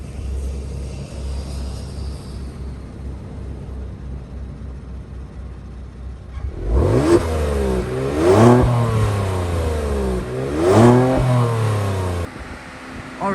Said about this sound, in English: We're gonna switch it into sport and see how it sounds after that.